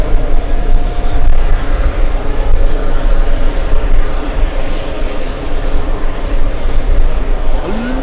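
A Lufthansa airliner at JFK airport roars as a loud, sustained broadband engine rumble that fills the whole stretch without pause.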